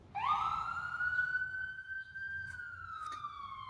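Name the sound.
siren going off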